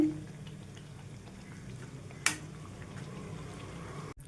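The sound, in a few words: puris deep-frying in oil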